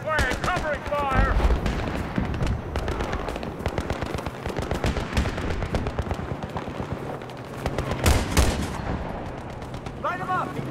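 Dense bursts of rapid automatic gunfire crackle up close in a Battlefield 3 campaign firefight with Recon Marines, nearly continuous with brief gaps, and soldiers' shouted voices break through the volleys.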